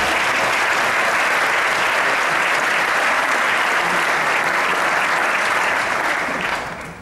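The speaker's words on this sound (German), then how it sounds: "Ein riesen Applaus" Loud, dense applause from an audience at a fitness event held in a beach resort club, a continuous wash of clapping that carries unbroken and tapers slightly at the very end.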